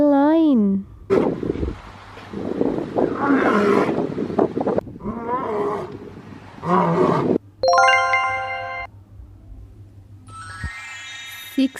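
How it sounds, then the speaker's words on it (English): Cartoon lion roars in a preschool counting video, several loud growling bursts between chime and jingle sound effects, with a narrator speaking over parts of it. "1 lion."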